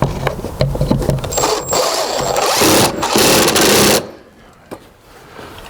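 A screw gun driving wood screws into a garage door weather strip gives a loud, rough whirring buzz for about four seconds, then stops, leaving quieter handling noise.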